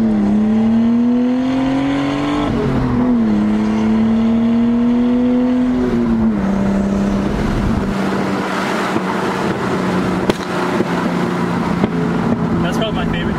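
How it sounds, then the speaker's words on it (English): A turbocharged car engine revs and drones with a fluttering turbo whoosh, rising and falling in pitch, with wind rumble throughout. "you get a lot of turbo flutter noise"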